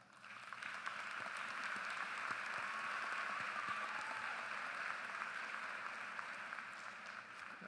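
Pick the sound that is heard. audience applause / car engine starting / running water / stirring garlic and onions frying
audience applause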